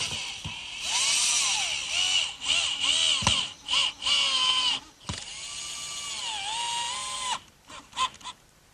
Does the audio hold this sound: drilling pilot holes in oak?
yes